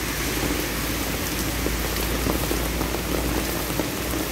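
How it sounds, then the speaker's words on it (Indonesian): Heavy rain falls in Hong Kong as a dense, steady hiss of drops pounding surfaces, constant and uninterrupted with no voices. "Yang ini di Hong Kong hujan deras."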